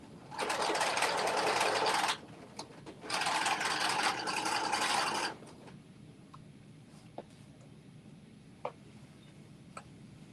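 A sewing machine stitches a hem and strap on an off-the-shoulder top in two close, loud bursts of rapid whirring, followed by quiet handling clicks and ticks.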